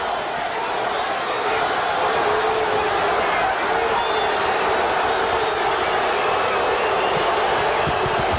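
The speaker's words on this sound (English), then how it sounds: "Part of the crowd beginning to boo" Boxing arena crowd at a De La Hoya fight, a steady dense roar of many voices with booing spreading through it, loud and continuous throughout.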